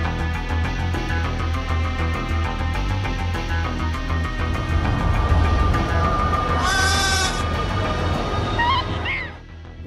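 Mountain goats bleating on a steep rocky cliff, loud repeated cries close by over a low background rumble, with a brief higher tone near the end.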